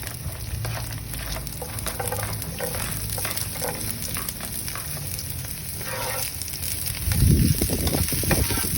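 Garlic and onions frying in a pan, a steady close sizzle and hiss with a louder burst of crackling near the end as more goes in.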